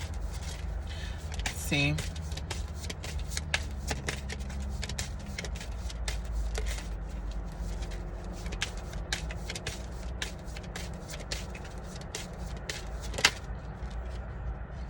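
Oracle cards are shuffled by hand, a quick run of soft riffling flicks and slaps under steady room noise, while a person speaks briefly.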